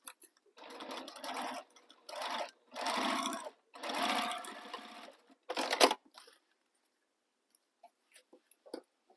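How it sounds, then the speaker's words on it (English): Sewing machine stitching the short edges of a sling bag's lining, running in several quick bursts separated by brief pauses, then going quiet apart from a few faint clicks. "sew this with the seam allowance given in the pattern"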